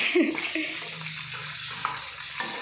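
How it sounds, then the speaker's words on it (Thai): Mackerel frying in a pan gives a low, steady sizzle with light crackles, and a brief faint voice comes near the start. "ทอดปลาทูพี่น้อง"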